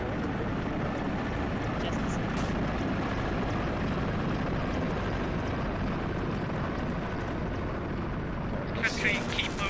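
An Mi-8 helicopter in the Arma 3 military game gives a loud, continuous rotor and engine drone throughout, with people talking over radio beneath it.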